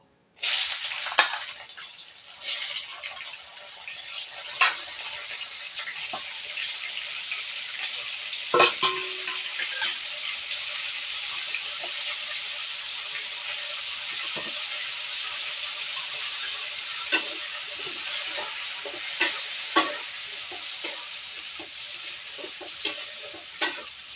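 Yardlong beans and potatoes frying in oil with salt and turmeric, a loud, even hiss that runs throughout, with occasional light taps and clinks of a utensil against the pan.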